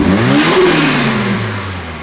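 A Toyota GR86 fitted with an HKS turbo kit revs loud and close, its engine note climbing then sliding back down over about two seconds with no voices.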